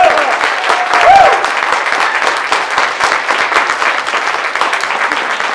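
Audience applause at a conference on male students, broad sustained clapping with a voice briefly over it near the start.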